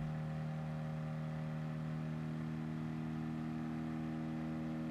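A car engine in a racing video game holds a steady, droning hum with stable tones while the car drifts through a corner, continuous and unbroken with no voices.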